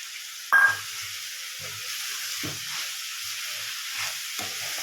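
Grated coconut and tomatoes frying in a pan for kara chutney give a steady soft sizzle, with a sharp burst as the coconut goes in and a few scraping stirs. No one speaks.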